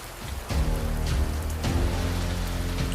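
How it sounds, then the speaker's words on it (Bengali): Heavy rain pours down in a dense, steady hiss at close range, with faint low rumbles rolling underneath during a stormy night; no voices. "ঝমঝম করে বৃষ্টি পড়ছে"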